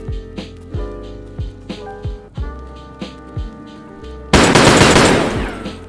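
Pistol gunfire in the video game Escape From Tarkov: a series of sharp, close shots in an uneven rhythm, followed by a louder, dense burst of rapid fire near the end.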